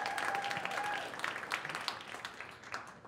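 An audience at a startup pitch night applauds a presenter, a dense patter of clapping from a room of people with a faint tone sounding early on.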